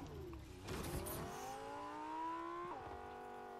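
A car in the Fortnite video game drives off, its engine rising steadily in pitch as it accelerates, with a brief shift near the end before it settles into a steady run; near and fairly loud, with no talk.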